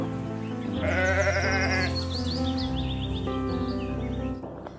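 A sheep bleats in a few wavering, drawn-out calls, carried over a steady musical background with no talk.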